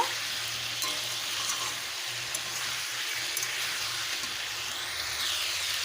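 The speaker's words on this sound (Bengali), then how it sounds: "এবারে দেব কেটে রাখা টমেটো ভালোভাবে সবজিগুলোকে কষব" Chopped tomatoes sautéing with vegetables in a pan, a continuous close sizzle with bubbling crackle and soft stirring, steady in level with no talking.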